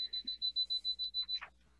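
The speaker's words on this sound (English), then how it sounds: "Can you hear it beeping? It's very excited." A building diagnostic meter gives a quick run of about ten bright, even electronic beeps, close and clear, before stopping.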